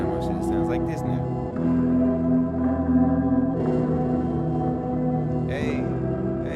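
A hip-hop beat slowed with a halftime effect in Ableton plays throughout, with heavy low bass tones and dragging sustained notes. Someone talks over parts of it.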